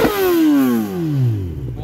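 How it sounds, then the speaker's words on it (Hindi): A superbike's loud exhaust roars close by, its pitch sliding steadily downward in a sharp, buzzy growl across about two seconds. "भाई इसका एग्जॉस्ट सुनो।"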